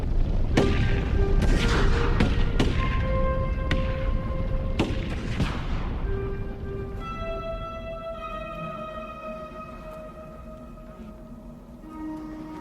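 Sharps rifles fire in a buffalo hunt, with a rapid volley of sharp, booming shots in the first half that thin out into distant echoing reports, then a lingering tonal ring with no talking.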